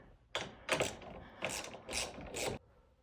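Ratchet wrench loosening a 10 mm bolt on the battery cover of a 1998-2002 Toyota Corolla, five quick close ratcheting bursts in an otherwise quiet space.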